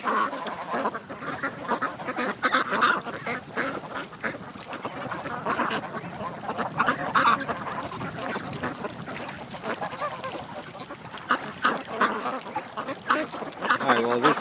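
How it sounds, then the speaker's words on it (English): Ducks quacking steadily throughout, a dense, continuous flock chorus heard from above with overlapping calls and no gaps. "Come on, ducks."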